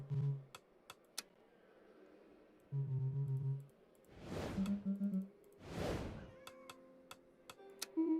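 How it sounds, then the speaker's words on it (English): A house cat lets out a meow that blends into a breathy yawn, heard as two soft swells mid-clip, amid sharp keyboard clicks and quiet electronic game sounds. "My cat just meowed and yawned at the same time."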